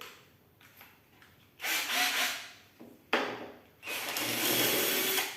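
Two bursts of a drill boring 4.5 mm and 5.5 mm holes through 2 mm polypropylene sheet, each lasting a second or two with brief grinding and bumps between them, close by, no voices.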